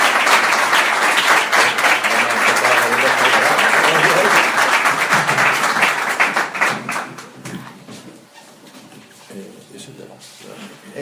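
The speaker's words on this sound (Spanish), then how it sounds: "pues sí que pido un fuerte aplauso para ellos dos." At a Spanish-language conference, the audience gives loud, sustained applause for several seconds that then thins into scattered claps and fades, followed by a speaker beginning to talk.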